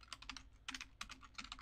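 Computer keyboard typing in quick clustered bursts of light key clicks with short pauses between, fairly faint and close, with no talking.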